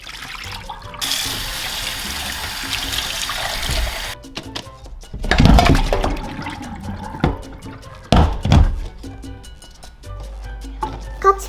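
Tap water splashes and runs over spring onions in a sink, with a steady stream at first, then bursts of rinsing and handling noises close by.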